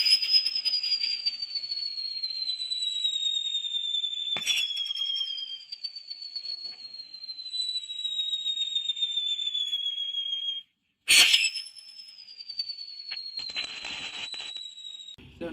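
Toy airplane spinner firework whistling in long, shrill, slowly falling tones, broken by sharp crackling bursts around the midpoint and again later, heard alone without voices.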